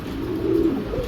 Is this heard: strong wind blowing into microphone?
no